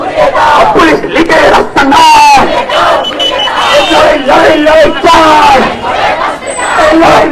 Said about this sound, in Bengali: স্বরাষ্ট্র মন্ত্রণালয় ঘেরাও কর্মসূচির যে মিছিল যাচ্ছে আমরা সেই মিছিলকে অনুসরণ করছি